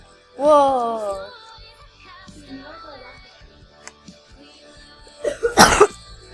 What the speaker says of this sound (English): coughing for days